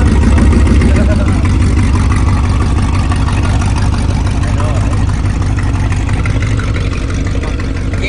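The engine of a 1976 Chrysler New Yorker running steadily, a loud, close, throbbing rumble that holds the same level throughout.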